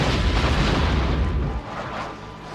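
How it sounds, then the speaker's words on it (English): A big movie explosion booms loudly on a ranch, a dense roaring blast that holds for about a second and a half and then drops to a rumbling fade. "The explosion here rocked the ranch of Enrique Rojas less than an hour ago."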